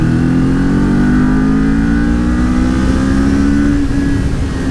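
Kawasaki Ninja 400 motorcycle engine revving hard and held high, a loud continuous whine with a steady pitch that rises slightly and then eases near the end, no talk.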